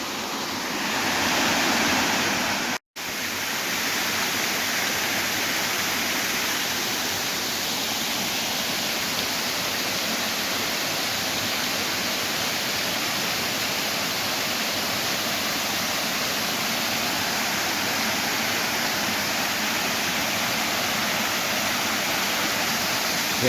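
Perehouski waterfall in Prudentópolis, Paraná, rushes with a loud, steady roar of falling water that continues for the whole stretch, with one brief dropout near the start. No voices.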